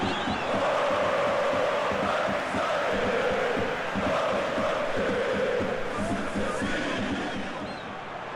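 Stadium crowd in a simulated Serbian SuperLiga football video game cheers and roars steadily, a dense wash of noise that holds loud for several seconds before easing slightly.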